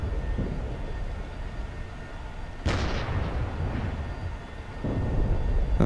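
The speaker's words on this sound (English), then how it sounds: "That's our artillery hitting that position." Artillery shell striking a position in DCS World, a single heavy impact boom that rolls and decays over a steady low engine rumble, with a further rise in rumble afterward.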